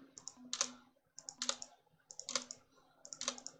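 Rapid repeated clicking while playing a video game, in four bursts of quick tapping clicks with short pauses between them, close and clear without talk.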